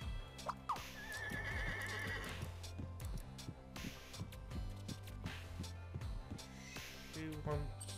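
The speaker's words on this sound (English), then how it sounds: "Horse." Horse in the video game Scribblenauts neighing and clip-clopping, whinnies over a rhythmic hoof pattern mixed with game music and effects at moderate level.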